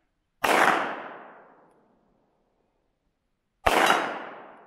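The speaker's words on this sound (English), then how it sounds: "Shoot the big one." Two sharp rifle shots outdoors on a snowy mountain hunting trip, the first a cold-bore shot, each a loud close crack with a long fading echo, spaced about three seconds apart, no talking.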